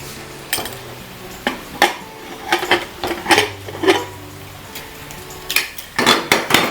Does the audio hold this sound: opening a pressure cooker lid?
yes